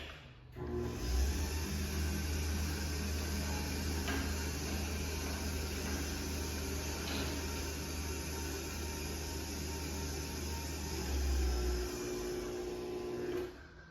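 A LiftMaster 3500 garage door opener motor runs with a steady mechanical drone for about ten seconds, without a door attached, starting and stopping abruptly nearby.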